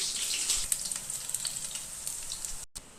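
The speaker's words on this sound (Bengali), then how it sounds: "এইভাবে সব পনিরগুলো আমি ভেজে তুলে নেব" Paneer cubes frying in oil in a pan for chilli paneer, a dense bright sizzle close up and fairly loud, with a few small spatters and a brief break near the end, no voices.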